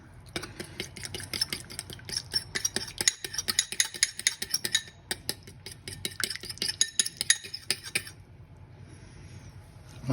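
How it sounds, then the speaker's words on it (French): A fork stirs and scrapes through lemon cake icing sugar in a bowl, a close, busy run of rapid clinks and scrapes lasting about eight seconds before stopping, with no talk. "je vais venir diluer dans mon sucre glace avec une fourchette"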